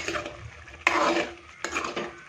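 A spatula scrapes and stirs through ridge gourd and prawns in an uncovered pan, two firm strokes with a soft sizzle underneath, close by.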